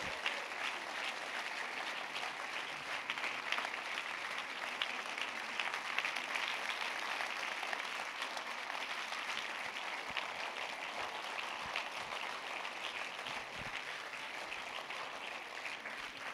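Audience applause at a festival's closing evening, honoring Madame Edna Eppelbaum: a dense, continuous roar of clapping from a large crowd, steady and somewhat distant, carrying on unbroken for a long stretch.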